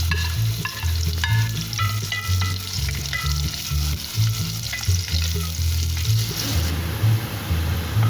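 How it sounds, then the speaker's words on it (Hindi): Onions frying in oil until lightly golden, with a continuous loud sizzle and repeated scraping and clinking of a spoon stirring in the pan, close up and with no voices. "अब प्याज को हल्का गोल्डन कर लेंगे"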